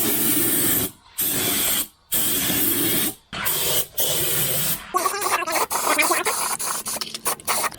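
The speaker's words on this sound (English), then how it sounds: "This is a rust converter." Rust converter sprayed from a can onto the metal of a Land Rover Discovery under restoration: four long, close hissing bursts with brief gaps, then a rougher stretch of sputtering spray and scraping.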